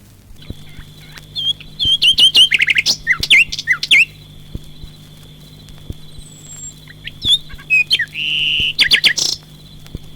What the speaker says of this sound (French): Attention, écoutez bien cet oiseau.